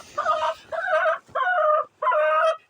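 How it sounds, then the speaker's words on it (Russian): A rooster on a farm with ducks and other poultry gives a loud, close crow in four harsh, evenly spaced bursts, with no talking. "И это петух издает такой звук."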